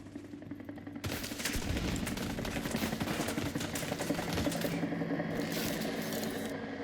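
Turret gunfire in the video game The Division 2 starts abruptly after a second and rattles on as one continuous rapid stream, loud and close, without a break.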